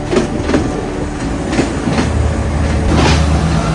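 A train rolls into Ella station in the hill country of Sri Lanka, loud and close, with steady clickety-clack of wheels over rail joints and a continuous rumble, no voices.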